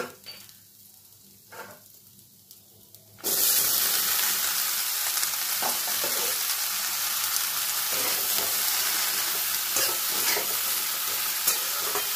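Cut water lily stems (shapla) hit hot oil in a pan, setting off a sudden loud, steady sizzle that follows a quieter stretch with light clinks, while a utensil stirs and scrapes through the frying.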